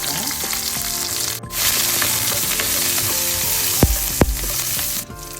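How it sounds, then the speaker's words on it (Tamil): Cumin seeds, curry leaves and garlic fry in hot oil for a spicy anchovy fish curry, giving a loud, steady sizzle with a few sharp crackles and pops partway through. "அதோட சின்ன சீரகம், கருவேப்பிலை கொஞ்சம் சேர்ப்போம்."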